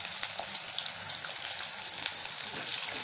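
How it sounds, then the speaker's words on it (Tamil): Small shallots, garlic and curry leaves sautéing in sesame oil for vathal kuzhambu, a soft continuous crackling sizzle with faint scattered pops, fairly quiet and steady, no voices. "கொஞ்சம் வதங்கட்டும். வெங்காயம் நல்லா வதங்கிடுச்சு."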